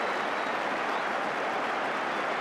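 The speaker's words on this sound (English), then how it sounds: "And listen to the applause." A football crowd at Sheffield Wednesday against Everton in May 1985 applauds at the half-time whistle, a distant, even wash of clapping and crowd noise with no clear breaks.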